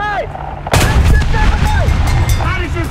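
Pz. III B tank cannon in War Thunder firing a single sharp, loud blast, followed by rumbling engine noise and chirpy whistling sounds.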